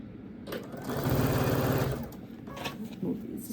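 A sewing machine stitching quilt pieces runs in a steady, fast burst for about a second, then slows and stops, close by, with some talking underneath.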